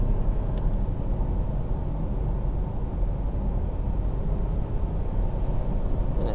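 A 2022 Chevrolet Trailblazer accelerates on the road, heard from inside the cabin as a steady low engine and road rumble that holds evenly without breaks, with no talk.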